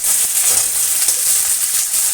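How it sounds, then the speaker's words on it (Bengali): Chopped ginger and onion fry in hot oil in a wok, giving a steady, dense sizzle that crackles without a break and stays loud and close the whole time, with no voices over it. "আদা কুচি করে দিয়েছি, সুন্দর করে ভেজে নেব।"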